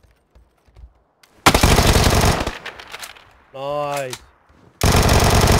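Automatic weapon hip-fire in a first-person shooter video game, two loud sustained bursts of rapid gunfire separated by a quieter stretch with a tonal game effect, and a voice speaking briefly.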